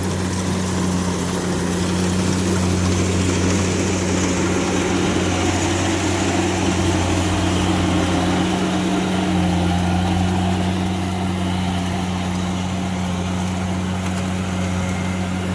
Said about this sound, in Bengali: কুবোটা হারভেস্টার কিং